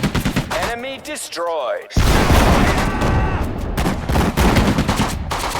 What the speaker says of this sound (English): Fire at the target!